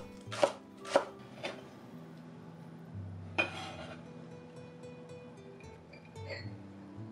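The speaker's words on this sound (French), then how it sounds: "détaillez en rondelles la cébette" A knife slicing spring onion into rounds on a board for pho, a few sharp chops early on, then a single louder cut and a softer one later, all close, with faint kitchen clatter between and no talk.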